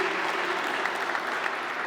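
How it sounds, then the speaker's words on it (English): Audience applause after a tech conference talk on a web framework's notification system, a steady, dense patter of clapping filling the room without pause. "if you want to clap again,"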